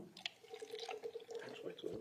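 Water being poured into a cup for a witness in a courtroom, a soft trickle and drips close by, with a person speaking over it.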